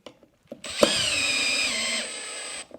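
A power drill drives screws into a Graham Audio LS5/9f speaker cabinet during assembly, a close, loud, steady whine lasting about a second and a half, preceded by a few small clicks.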